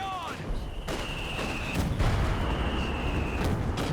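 An artillery concentration barrage in Company of Heroes 2, with heavy shell impacts and booms crashing at intervals amid battlefield gunfire, loud and layered, while a voice talks over the top.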